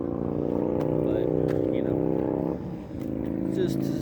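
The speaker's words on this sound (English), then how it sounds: "record an outro with the noisy motorcycle in the background" A noisy motorcycle engine drones steadily in the background at a high school event while people talk over it, the rumble dipping briefly before carrying on.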